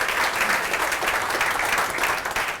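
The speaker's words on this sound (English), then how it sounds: "give him a warm welcome applause" A conference audience at Startup Grind Philadelphia gives sustained, dense applause welcoming a speaker on stage, a loud unbroken wash of many clapping hands.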